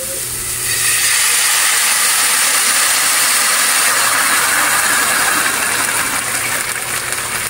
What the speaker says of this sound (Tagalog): Lagay lang tayo ng water.